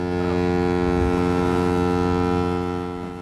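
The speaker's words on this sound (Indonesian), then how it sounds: "tiba-tiba terdengar suara klakson dari satu kapal" A loud, deep ship horn blares in one long sustained blast, steady and droning before tapering slightly at the end, from the film Captain Phillips.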